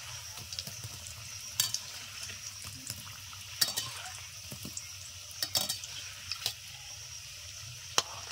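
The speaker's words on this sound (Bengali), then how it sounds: "ভাজা প্রায় হয়ে গেছে, আর 1 মিনিট মতো নেড়েচেড়ে নামিয়ে নেব।" A flour and egg snack frying in oil, which foams up around it. The quiet, steady bubbling sizzle is dotted with small crackles and pops, and a few sharper spits stand out.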